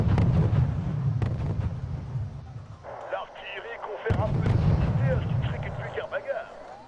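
Unit gunfire in the real-time strategy game Wargame European Escalation, rumbling bursts of distant-sounding shots and low booms rolling under a player's steady talk.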